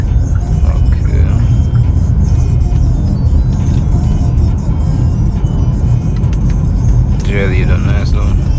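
A 2024 Kia Sportage X-Line with a 2-liter turbo diesel cruises along, heard from inside the cabin as a steady, loud low rumble of road and engine noise, with a brief voice near the end.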